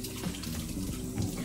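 Tap water running steadily over hands at a kitchen sink while cooking, a continuous close splashing wash with no voices.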